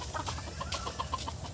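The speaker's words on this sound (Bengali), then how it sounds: "অনেকগুলো মুরগি" Several chickens clucking in short, repeated calls on a farm where a sheep and a kitten are also around, the soft clucks close by and steady for a moment with no talking.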